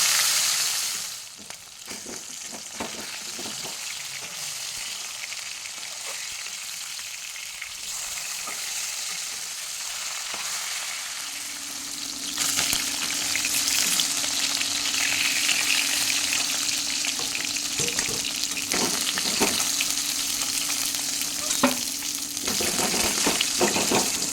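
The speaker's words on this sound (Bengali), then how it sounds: "এই মাছগুলোকে আমি তেলের মধ্যে এক এক করে ছেড়ে দিয়ে হালকা করে ভেজে নেব" Rohu or catla fish pieces frying in oil give a continuous crackling sizzle, with clatters from pieces being added or turned; the frying swells louder and more intense partway through, with a low steady hum underneath.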